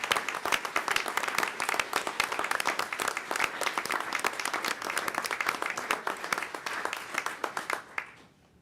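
Audience at a school awards event applauds steadily, a dense sustained patter of many hands clapping that fades out near the end.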